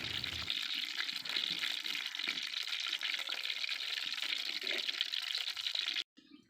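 Cooking oil goes into a wok set on a clay stove in a rural village kitchen, giving a steady, close hiss and sizzle that runs for about six seconds before cutting off abruptly, with no talking.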